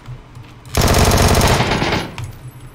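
Burst of rapid automatic fire from a Vector submachine gun in the battle royale game PUBG, loud and close, lasting over a second after a quieter stretch, then dropping back to low background.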